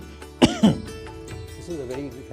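Two sharp, close coughs in quick succession during a yoga breathing exercise, followed by a softer throat-clearing sound and some quiet vocal noise.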